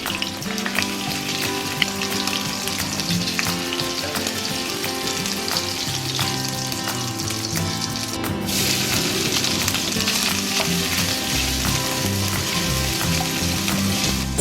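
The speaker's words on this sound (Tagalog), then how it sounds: "fry the shrimps" Shrimps frying in about two tablespoons of hot oil in a pan over medium heat, a loud, dense, continuous sizzle and crackle that rises slightly in intensity partway through, close up with no voices.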